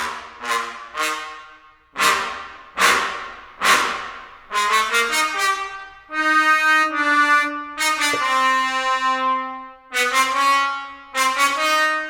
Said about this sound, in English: And the trombone ensemble muted articulations.